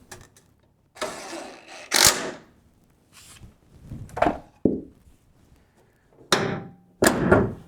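Hood latch on a Nissan 240SX being closed: a series of sharp metallic clunks and slams in separate bursts, close and fairly loud, with quiet gaps between them.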